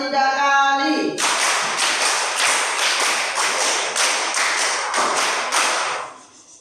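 Children in a classroom clapping out a counting game, a run of loud, sharp, evenly spaced group claps in close rhythm after a brief sung or spoken lead-in, ending as the claps fade out.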